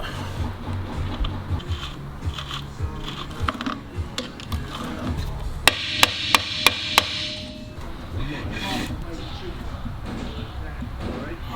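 Wrench tightening the outer wheel bearing nut on a 1937 Buick Model 41 front hub: a run of five crisp metallic ratchet clicks in the middle, with clanks and handling noise around them and someone talking throughout.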